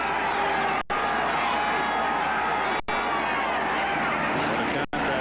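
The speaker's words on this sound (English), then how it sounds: "What a contrasting crowd noise. Absolute silence for Marino to get off his call" A low, hushed murmur of a stadium crowd at the 1992 AFC Championship football game between the Buffalo Bills and Miami Dolphins, a steady distant hum broken by three short dropouts.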